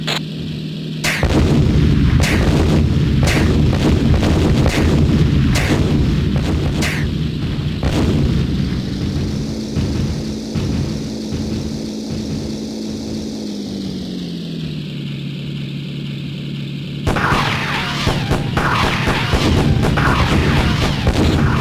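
Gunfire in the World War II Pacific aerial combat game Beyond Pearl Harbor: Pacific Warriors: loud, dense bursts of rapid shots over a steady droning aircraft engine, with a sustained engine stretch between heavy volleys.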